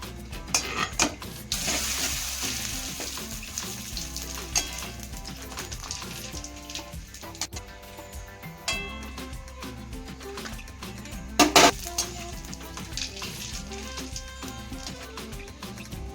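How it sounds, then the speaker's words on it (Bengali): Masala sago papad frying in hot oil in a kadai, crackling and sizzling continuously, with sharp bursts and occasional clatter of a utensil against the pan. "কড়াইতে তেল দিয়ে দিয়েছি তেলটা গরম হয়ে গেছে এবার পাপড় আমি দিয়ে দেবো"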